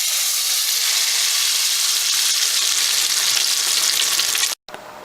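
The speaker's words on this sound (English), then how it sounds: "I'm going to add that ½ cup of canola oil in there, and I'm just going to fry my tomatoes" Tomatoes frying in hot canola oil in a pot give off a loud, continuous close-up sizzle with a hissing, crackling texture, broken by a brief cutoff near the end and no talk.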